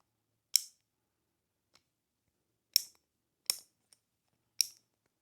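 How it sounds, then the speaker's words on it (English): An ACE inverted skateboard kingpin locks with sharp, close clicks: four distinct snaps spaced irregularly across a few seconds, with a couple of fainter ticks between them in an otherwise quiet room. "So that clicking sound is it locking."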